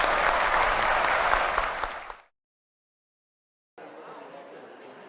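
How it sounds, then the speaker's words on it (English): Theater audience applauds panelists after a discussion of The Death of Klinghoffer in St. Louis, a dense, steady round of clapping that fades out, falls silent, then returns at lower level. "Ladies and gentlemen, could we just give them all a round of applause?"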